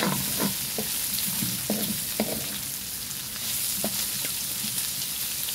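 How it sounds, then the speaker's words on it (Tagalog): Carrots sautéing in a hot pan: a steady, close sizzle with a spatula scraping and tapping the pan at irregular moments, and no voices. "Igisa lang natin saglit yan."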